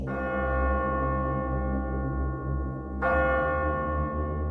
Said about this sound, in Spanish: La campana repicó una vez más fuerte.